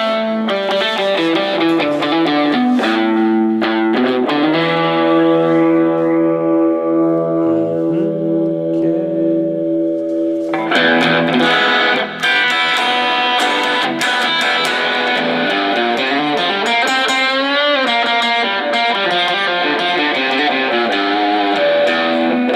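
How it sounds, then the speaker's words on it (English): An electric guitar plays through a Positive Grid Spark GO amp on an overdrive preset, giving mildly distorted chords and sustained notes. The playing is close and loud, with a quieter held passage before busier strumming resumes, and no talking. "this is kind of like an overdrive now. It's just a little bit more distortion."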